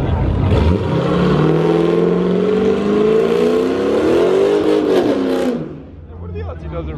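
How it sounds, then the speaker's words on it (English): A Corvette's engine roars and revs hard at length during a burnout at a busy car meet by a gas station, harmonics rising in pitch, loud and close, then drops off as voices continue. "He just did a burnout right in the middle."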